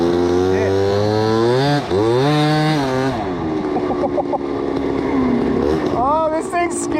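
A Honda Dio 120cc stroker scooter engine runs loud and close, its pitch sweeping up and down with revving before settling into a rough idle, with brief sputters near the end.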